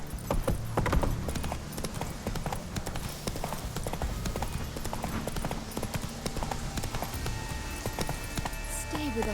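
Roach, Geralt's horse in The Witcher 3, gallops in a quick continuous clip-clop of hooves close by, mixed with game ambience and a voice speaking.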